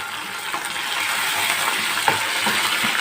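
Ginger and garlic sautéing for chicken handi, a steady close sizzle of frying with faint stirring scrapes across the whole stretch and one brief sharper clink midway, no talking.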